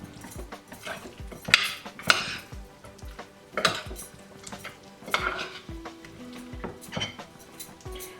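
A butter chicken mixture with green chutney being stirred in a pan, with a utensil scraping and clinking against the metal in an irregular rhythm and a faint sizzle underneath, close and without talk.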